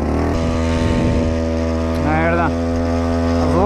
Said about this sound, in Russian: Наверное, звук этого двигателя уже всем осточертел.